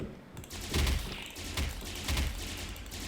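Gunfire in a horror video game set in a haunted dental clinic comes as three sharp, heavy bursts about half a second apart over a low rumble, close and loud, with no talk.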